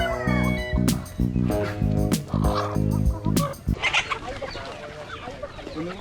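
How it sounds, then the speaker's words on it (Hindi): A rooster eating fruit on a farm among other fowl, giving several loud, close crowing and clucking calls in quick bursts before settling into softer scattered clucks and background noise. "ये जो मुर्गा अभी फ्रूट खा रहा है वो सबसे ज़्यादा डोमिनेटिंग है।"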